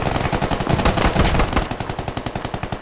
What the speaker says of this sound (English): Everyone's just blindly firing.